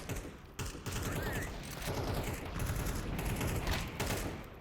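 Gunfire during a Counter-Strike 2 FACEIT match: dense, rapid rattling shots and mechanical clatter run almost continuously at moderate loudness, with a brief dip partway through.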